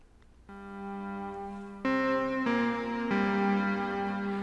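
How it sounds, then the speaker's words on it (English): A raw analog MicroBrute synth holds a droning tone that shifts pitch in a few steps, thick with buzzing harmonics from an overtone sound and a slowly changing pulse-width texture. "I've got the MicroBrute set up with the overtone sound and the pulse width sound."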